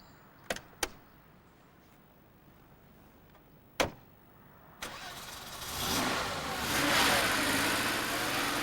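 Porsche 911 Turbo with a 3.6-litre turbocharged engine: a few sharp clicks, then the engine starts about halfway through and settles into a broad, steady idle that swells slightly toward the end.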